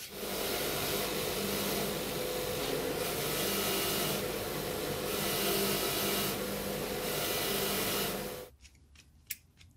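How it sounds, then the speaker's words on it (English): A bench wire wheel spins against bolt threads from a 1999 Holden Rodeo ball joint job, a loud, steady whirring brush grind for about eight seconds that stops abruptly, leaving a faint tick and quiet. "These ones are a little bit tight, but they should come good once I've hit them on the wire wheel, which we'll do now"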